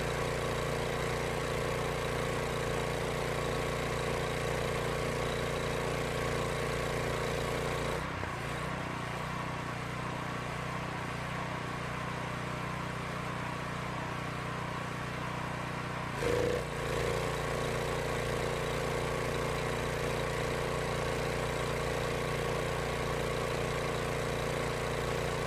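A steady Kohler carburetted gasoline engine drones loudly throughout, its tone shifting twice as the load changes with a sprayer engaged at maximum pressure, with a brief bump in the middle.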